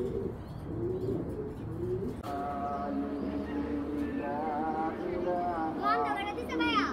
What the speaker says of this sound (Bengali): মাশাআল্লাহ অনেক সুন্দর কবুতরটা, জাবরা, ফুল জাবরা।